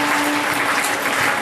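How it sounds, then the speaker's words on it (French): Church congregation clapping loudly and steadily in praise of Jesus Christ, a thick continuous wash of many hands, close and full, with a faint held tone beneath. "on l'applaudit très fort encore pour le Seigneur Jésus-Christ"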